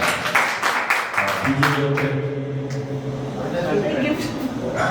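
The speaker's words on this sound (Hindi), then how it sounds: "बहुत बढ़िया, बजाओ ताली।" An audience claps at a mangal aarti for the Ashtanhika festival at Bhagwan Mahavir Ahimsa Sthal in Mehrauli, New Delhi. A dense burst of clapping opens, then fades under a voice and melodic chanting.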